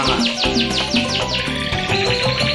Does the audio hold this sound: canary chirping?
yes